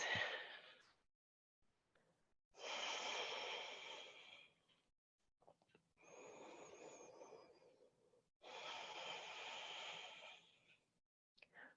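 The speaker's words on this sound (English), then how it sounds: "Breathing in and out," Slow, deep breaths during a power yoga class, three long airy exhalations spaced a few seconds apart with quiet pauses between, close to the microphone and alone.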